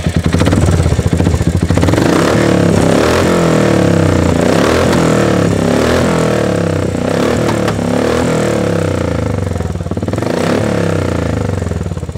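A Royal Enfield Hunter 350 fitted with a loud aftermarket racing exhaust revs hard and close up, its thumping single-cylinder note rising and falling in repeated throttle blips over a steady rumble, with no talking.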